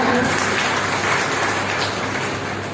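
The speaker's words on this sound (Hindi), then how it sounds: "इनके लिए जोरदार तालियां।" Loud, dense applause from an audience at a motivational business talk, a steady unbroken wash of clapping throughout.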